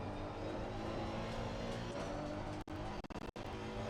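A race car engine in the racing video game Assetto Corsa Competizione drones loudly and steadily, with brief gear-shift dips toward the end.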